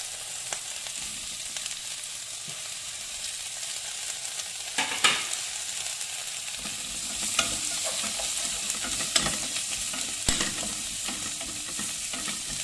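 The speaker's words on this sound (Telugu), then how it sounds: "ఇటు ఉల్లిపాయలు అటు బ్రోక్లీ రెండు ఇటు ఫ్రై అవుతూ ఉంటుంది కదా" Onions and broccoli fry together in a pan with a bay leaf and asafoetida, giving a constant sizzle and occasional scrapes and taps from a stirring spoon. It sounds close and steady throughout, with no voices.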